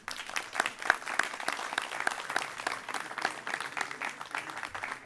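An audience at a charity cheque-presentation ceremony applauds the rescuers, a sustained round of many hands clapping with a dense, even crackle that keeps going throughout.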